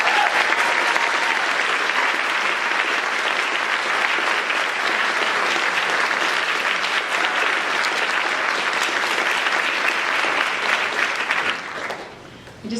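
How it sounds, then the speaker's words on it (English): An awards ceremony audience claps for departing board members, a dense, sustained burst of applause that holds steady for about eleven seconds before tapering off near the end. "Let's give them a round of applause."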